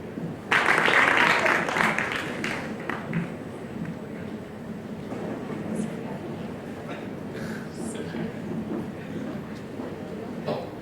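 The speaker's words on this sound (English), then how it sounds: "so we have another huge round of applause also, everybody" A college entrepreneurship summit audience bursts into applause that peaks loudly at first, then thins into scattered clapping as a speaker talks over the fading crowd.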